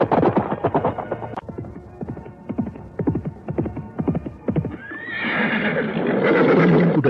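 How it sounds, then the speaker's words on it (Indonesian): A horse gallops in a fast, steady, rhythmic drumming of hoofbeats, close and loud, then gives a loud neigh as the hoofbeats give way to a rushing wash of sound. "Lari kudanya cepat dan lincah."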